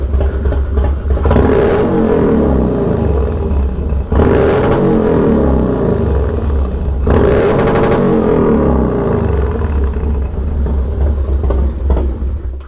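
A 2000 Harley-Davidson Dyna FXDX stunt build revs hard and loud up against its rev limiter, the engine rumbling steadily with three distinct bursts of rattling, stuttering limiter cut.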